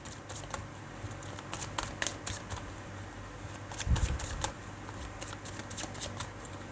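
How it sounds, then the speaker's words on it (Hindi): A deck of tarot cards is shuffled close by, a soft run of riffling and patting with occasional slaps and one fuller thump partway through. "पहले मैं कार्ड्स को अच्छे से शफल कर लूँ।"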